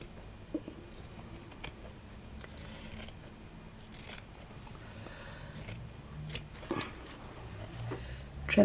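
Scissors snip and trim fabric for a handmade journal, a series of faint, close crisp cuts and rustles against a quiet room.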